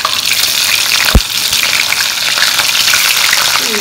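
Cauliflower florets, drained of excess water, sizzle loudly as they hit hot oil in a pan, a steady dense frying hiss with a sharp thud near the start and no voices.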